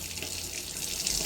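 Tap water runs steadily over aloe vera leaves being washed in a sink, a soft continuous splashing hiss lasting briefly.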